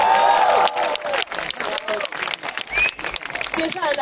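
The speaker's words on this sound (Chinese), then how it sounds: "给你们自己一个掌声好不好？" A festival crowd claps and cheers at an outdoor rock festival stage in Taichung, a loud burst of applause fading into scattered clapping and shouts, with stage voices and whistles mixed in.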